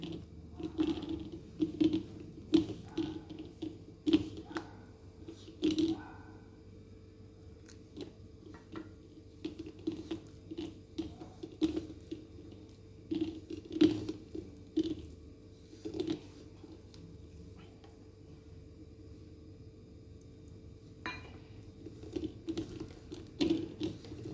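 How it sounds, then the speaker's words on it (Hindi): Eggless donut dough with a pinch of salt and water is kneaded by hand into a tight dough: soft, squishy patting and irregular slaps, close and quiet, with brief pauses between bursts. "अच्छा टाइट डो बना देंगे।"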